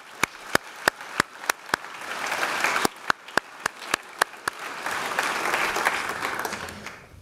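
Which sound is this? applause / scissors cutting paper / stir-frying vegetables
applause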